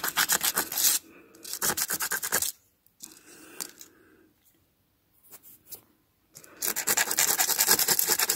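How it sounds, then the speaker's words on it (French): A bean seed's hard coat is scraped to scarify it, giving bursts of dry, rapid rubbing and scratching close up, with quiet pauses between strokes. "il ne faut pas hésiter à bien gratter"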